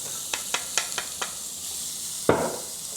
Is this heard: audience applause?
no